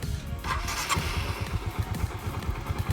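Motorcycle set up for touring being started, a brief cranking burst followed by a low, pulsing engine idle that chugs steadily and close by.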